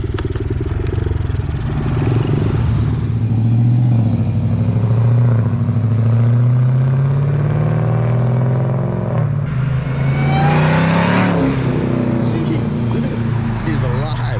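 A 1968 Dodge Charger with a swapped-in Hellcat engine drives nearby, a loud continuous engine rumble rising and falling in pitch, with a voice talking over it.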